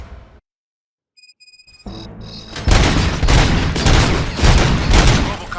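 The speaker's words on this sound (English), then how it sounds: "Gunshots? What's going on?" Sustained gunfire erupts in the RoboCop: Rogue City video game after a moment of near silence and a few tones, dense loud bursts of shots and booms rolling on continuously to the end.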